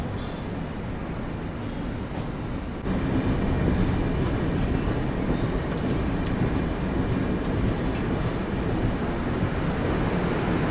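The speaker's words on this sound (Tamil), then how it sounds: "இப்போ நம்ம ட்ரெயின் பார்த்தீங்கன்னா பயப்பனஹள்ளியில் வந்து ஒரு அன்ஷெட்யூல்டு ஆல்ட்டுங்க" A passenger train rolls into Baiyappanahalli with a loud, continuous rumble of wheels and carriages heard from on board, steady rail noise with faint squeals and clicks throughout.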